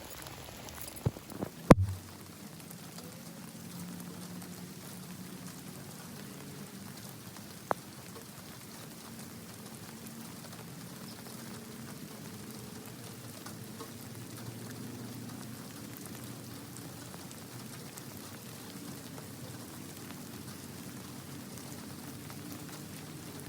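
Steady rain patters on a surface throughout, an even hiss with no voices, after a few sharp knocks at the start.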